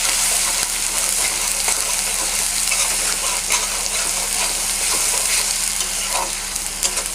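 Coriander, chilli and turmeric powders frying in oil in a pan, a steady close sizzle with light scraping from stirring and scattered small crackles, no voices.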